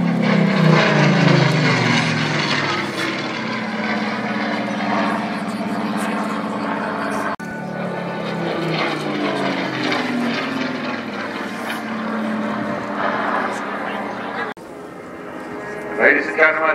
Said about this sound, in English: the Lancaster Spitfire and Hurricane, the Battle of Britain Memorial